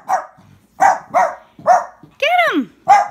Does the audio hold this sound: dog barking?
yes